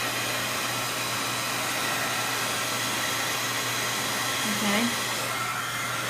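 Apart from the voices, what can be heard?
heat gun drying a cardmaking project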